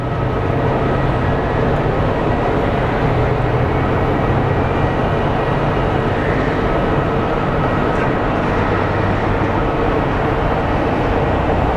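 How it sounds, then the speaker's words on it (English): A DC-10 air tanker on its way to fight a wildfire near Mesa, Arizona passes overhead as a loud, steady, broadband engine roar that holds constant throughout, with no talk. "I believe there is a DC-10 tanker going over to fight."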